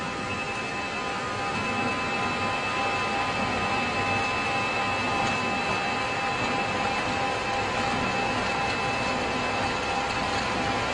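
Inside a SriLankan airliner, jet engines run at takeoff thrust as a loud, steady, broadband roar with a faint constant whine above it, unbroken across the whole stretch, with no talking.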